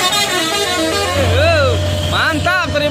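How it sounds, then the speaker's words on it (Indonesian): A bus sounds a telolet musical horn, playing several rising and falling melodic toots over engine rumble, with people talking and cheering nearby. "Telolet manis si Om."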